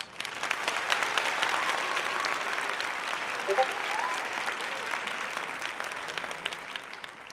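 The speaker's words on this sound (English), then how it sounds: "Absolutely, you can get more claps, I guess." Applause during a live online show: a continuous, even wash of many clapping hands at moderate volume that holds steady throughout without trailing off.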